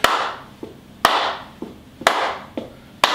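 A few hands clap in a slow, steady beat, about one sharp clap per second, each with a long room echo, loud and close with no talking, as a singer leads a group before a cowboy song.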